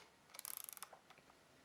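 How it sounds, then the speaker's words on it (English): Rapid ratcheting clicks from the film advance of a Rollei Rolleimat AF camera loaded with Fuji C200, a quick close run of about a dozen ticks followed by a few softer mechanical clicks. "Now we can advance the frame"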